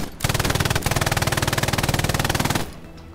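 A long, steady burst of MG42 machine gun fire in the game Hell Let Loose, the very rapid shots loud and close, stopping abruptly after more than two seconds.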